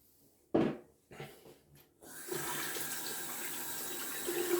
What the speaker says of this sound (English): Just rinsing off the hands